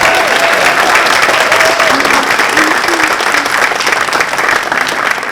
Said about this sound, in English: Another round of applause for the solos.